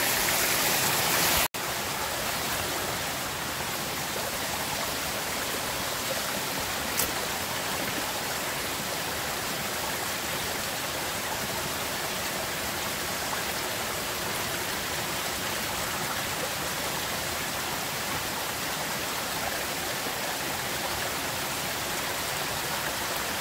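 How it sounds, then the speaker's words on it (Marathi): Steady broadband rushing of a small stream of rainwater, constant and fairly close, with a brief knock near the start and no voices. "ह्या ठिकाणी पावसाचं पाणी आहे, थोडंसं पाट आहे."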